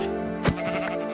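A single short bleat from a Minecraft goat, a brief nasal cry rising sharply over a steady background tone, loud and close.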